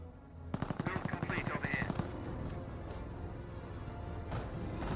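A .30 cal machine gun firing in Company of Heroes 1: a rapid, evenly paced burst of about fifteen shots lasting roughly a second and a half, heard over a constant battlefield background with a commentator talking.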